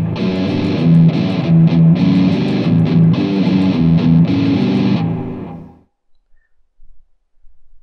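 Heavily distorted electric guitar plays a riff in its in-scale version, a fast chugging palm-muted line, loud and up close, ending abruptly around five seconds before near silence with small clicks.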